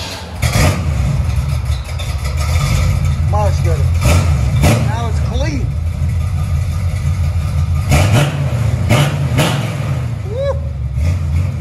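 A 1970 Chevy C10 engine with long tube headers and Flowmaster Super 10 true dual exhaust with dumps rumbles loudly and steadily up close, with a few sharp revs rising over the idle while someone talks and cheers.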